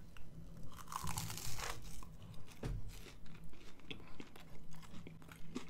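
Crunchy Popeyes apple pie with a cinnamon sugar crust being bitten and chewed up close, an initial crisp crunch followed by rhythmic, muffled chewing, quiet and without speech.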